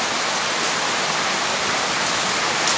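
Rain falling steadily outdoors, heard as a dense, even hiss of drops that continues unbroken with no talking.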